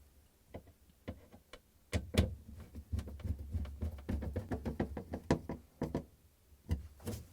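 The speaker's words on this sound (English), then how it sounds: "So then we're gonna match the holes and secure it with a couple of Phillips screws." Phillips screws being driven to secure a Samsung refrigerator crisper drawer rail, heard as a quiet series of sharp clicks and knocks, irregular and close, with no talking.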